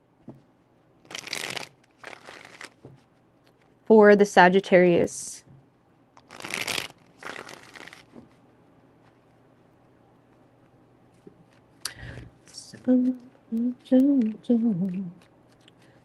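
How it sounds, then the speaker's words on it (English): Tarot cards are shuffled in several quick crisp riffling bursts, close and clear, between stretches where someone talks. "3 shuffles, or wait, what am I doing? Yeah, 3 shuffles."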